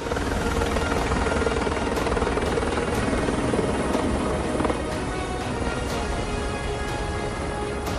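Steady, dense helicopter rotor noise fills the whole stretch, loud and close, with a constant thudding roar and no voices, during a flight over Latur in the Marathwada region of Maharashtra.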